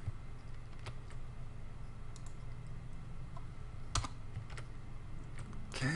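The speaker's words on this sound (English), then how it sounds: "you can just type this right into the editor" Keys clatter on a computer keyboard while text is entered into a web page editor, a steady run of light clicks with a few sharper taps, close and moderately quiet, no voices.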